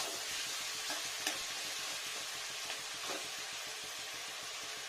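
Chicken polow ingredients sizzle and fry steadily in a pan, with a continuous crackling hiss and occasional stirring scrapes, close and even in level throughout.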